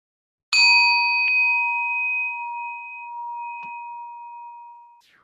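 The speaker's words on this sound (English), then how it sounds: "I'm going to ring my bell." A single meditation bell struck once, its clear metallic ring with bright overtones sustaining and slowly fading for several seconds, with a faint second tap partway through, in a quiet room.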